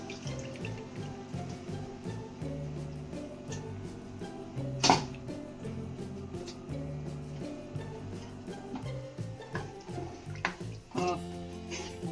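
Tamarind juice is poured into a pot of fish curry, giving faint, soft liquid splashing and trickling in a quiet kitchen. A single sharp clink of a utensil sounds midway through.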